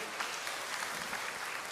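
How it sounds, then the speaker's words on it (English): Conference audience at an academic research event applauding a speaker, a steady, even roar of many hands clapping at moderate distance, unbroken from start to finish. "give a big, huge applause to our speaker again"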